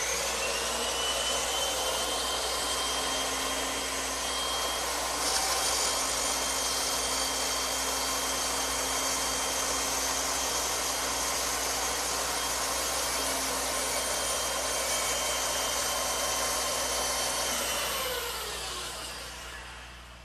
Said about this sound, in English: But ideally, it's nice to have a bandsaw like this one.